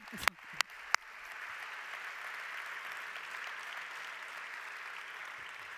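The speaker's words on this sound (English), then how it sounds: "on les applaudit encore" Audience applause at a hospitality awards ceremony in the Salon Opéra, following a gospel performance: a few sharp, separate claps, then a full, steady wash of clapping that holds evenly to the end.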